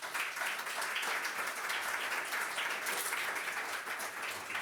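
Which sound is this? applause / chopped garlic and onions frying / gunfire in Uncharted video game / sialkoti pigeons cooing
applause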